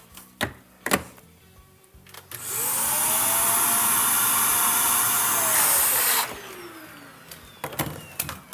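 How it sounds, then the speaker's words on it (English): A vacuum cleaner clearing a clogged grinder on a Gaggia Anima espresso machine switches on with a rising whine, roars steadily for a few seconds, then winds down, framed by scattered clicks and knocks. "Vacuum cleaner."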